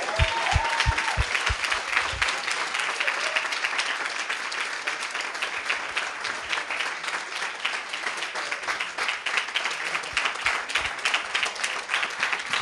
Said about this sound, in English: should we give them another round of applause?